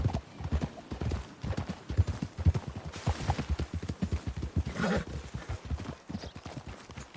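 Steady clip-clop of horse hooves at a trot in the video game Red Dead Redemption 2, loud and close, with a brief whinny in the middle.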